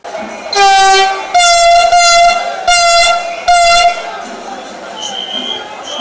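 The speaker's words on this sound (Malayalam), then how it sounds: "കാസർഗോഡ് നിന്നും പുറപ്പെട്ട ട്രെയിൻ വൈകിട്ട് മൂന്ന് നാൽപ്പത്തിയെട്ടോടെയാണ് തിരൂർ റെയിൽവേ സ്റ്റേഷനിലെത്തിയത്" Vande Bharat Express train pulling into Tirur railway station in Kerala, sounding four long, loud harmonic horn blasts in quick succession, followed by quieter station background noise.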